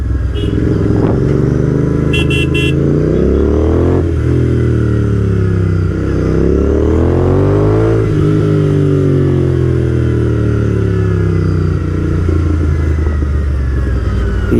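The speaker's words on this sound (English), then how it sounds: "That's the reason sometimes loud exhaust will help you. Give some revs and then people will move out of the way." A motorcycle with a loud exhaust, ridden on a Hero Xpulse 200 4V versus Honda CB200X comparison ride, revs repeatedly in traffic, its engine note rising and falling in several sustained loud sweeps with a brief horn-like beep early on.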